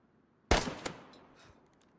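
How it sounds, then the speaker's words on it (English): Video game gunfire at a shooting range during target practice: a sharp close shot followed quickly by a second crack, with a fading echoing tail and faint distant pops. "I found the nearest shooting range and did a little target practicing."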